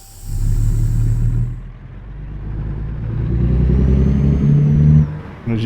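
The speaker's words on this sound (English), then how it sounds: "As you can hear, the engine sounds real good in this thing." Peterbilt 579 truck engine in American Truck Simulator: a deep, loud diesel rumble that dips, then climbs steadily in pitch as the truck accelerates through the gears, with no talking.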